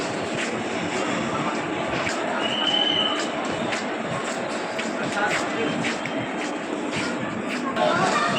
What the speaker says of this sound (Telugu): మనమైతే ఇప్పుడు ఢిల్లీ రైల్వే స్టేషన్లో ఉన్నాము